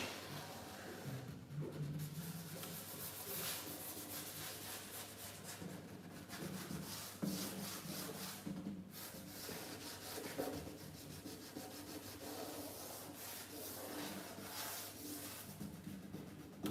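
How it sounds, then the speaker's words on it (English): Alcohol varnish being applied by hand to a Montagnana model stringed instrument in a Cremona workshop, a faint continuous rubbing and brushing sound with soft repeated strokes, alone with no talk. "I show you how I put on a layer of alcohol varnish"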